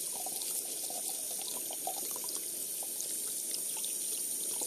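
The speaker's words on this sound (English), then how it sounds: "you're ready to rinse them off. Make sure you rinse them off very good" Tap water runs steadily into a sink while dentures are rinsed, a constant faint hiss and splash with no pauses.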